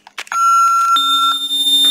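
An Ademco Vista alarm keypad powering back up: a short chirp, then a long steady electronic beep tone that holds alone and loud to the end.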